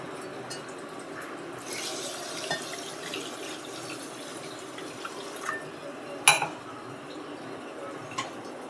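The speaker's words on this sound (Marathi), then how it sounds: "आता मी याच्यामध्ये पाणी ॲड केलं आहे" Water poured into a pot in a home kitchen while preparing falooda, a soft steady splashing and trickling with light clinks of utensils and one sharper metallic knock, fairly quiet and close.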